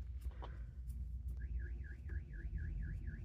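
A car alarm wails in a fast, regular up-and-down warble, fairly quiet and distant over a low background rumble, starting after a few faint clicks.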